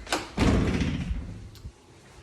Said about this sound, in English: Lock that door.